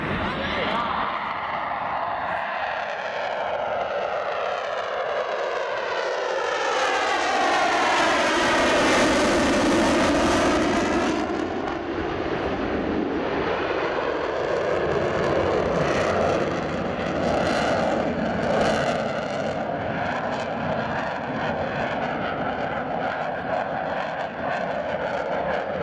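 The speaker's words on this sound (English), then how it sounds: "You'll see him afterwards go into reheat for a minimum radius turn to really demonstrate the agility of the RAF Typhoon." An RAF Eurofighter Typhoon jet in reheat during an airshow display, a loud roar that swells as the aircraft passes close with a sweeping tone shift, then a sustained rumbling engine noise as it turns away.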